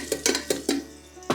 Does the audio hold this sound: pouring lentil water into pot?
no